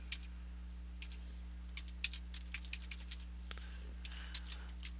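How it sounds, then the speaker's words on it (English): Fingers tap out code on a computer keyboard, producing quiet, irregular clicking keystrokes over a steady low electrical hum, with no talking. "So we're going to type open angle bracket link."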